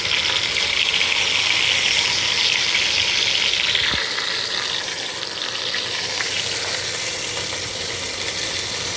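Meat browning in a pan for a Sunday dinner meal prep, a steady loud sizzle and crackle that drops slightly in intensity about halfway through, then keeps frying evenly with no talk.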